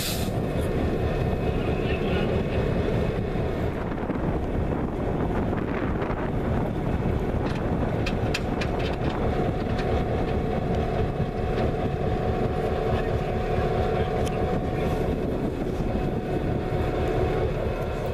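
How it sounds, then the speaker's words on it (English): Diesel locomotive Engine 2628 backs along the main line toward the Pep-Up plant in Frankford, giving off a steady low engine drone mixed with wind rumble across the whole stretch. "Engine 2628 backed up along the main line towards the Pep-Up plant in Frankford"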